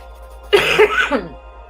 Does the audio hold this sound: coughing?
yes